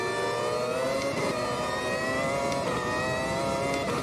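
McLaren MP4/12 Formula 1 car accelerating off the grid at Silverstone in Automobilista 2, a loud, close, high-pitched engine wail rising through the gears with brief dips at each shift, mixed with the roar of other cars.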